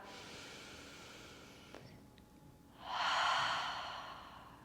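One deep, slow breath during a gentle yoga flow: a soft hiss of inhalation and then a fuller, louder exhale, close and alone over faint room tone.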